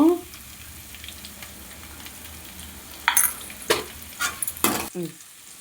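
Green chillies and onions frying in a pan until browned, a low continuous sizzle broken by several bursts of spatula scraping and stirring toward the end, close and fairly loud.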